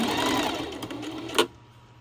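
A sewing machine stitches a pillow sham with a steady fast whirring hum that stops abruptly after a brief clunk, close and fairly loud.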